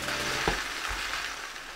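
Aubergine sears in hot olive oil, a continuous close sizzle with a brief clatter of utensil or pan movement partway through, no talking.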